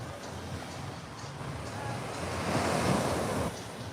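Surf washes onto a sunny sandy beach in a continuous broad hiss that swells toward the middle, with wind buffeting the microphone throughout.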